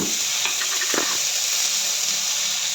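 Tomato simmers with salt in a pan for an orange chutney, making a steady close hiss and sizzle with a brief soft clatter near the start.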